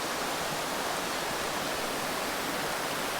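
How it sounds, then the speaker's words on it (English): Charco Prieto waterfall near San Juan, Puerto Rico, pouring at the top of a hike: a steady, close, broadband rush of falling water that stays even and unbroken throughout, with no voices. "the amazing Charco Prieto waterfall at the top."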